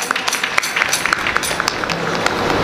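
An audience at a devotional kirtan claps in a quick, uneven patter of many hands. The sound is close and fairly loud, with faint voices under the applause.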